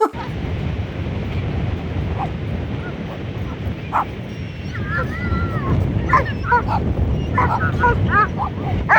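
Dogs yip and bark intermittently at a distance on an early-morning dog walk, over steady surf and wind noise, with people talking nearby.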